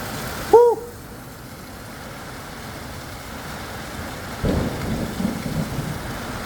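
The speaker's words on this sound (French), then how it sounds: "Oh, il y a de la foudre!" A single sharp, loud thunderclap cracks close by during a violent thunderstorm in the Drôme, followed by quieter rain and wind noise.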